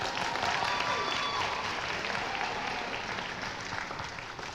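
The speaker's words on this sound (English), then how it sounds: "let's give her a big applause to Domenica Vizcarra." Audience applause for a speech contest winner during a 2022 awards announcement: steady, dense clapping from a crowd, loud and continuous throughout, tapering slightly toward the end.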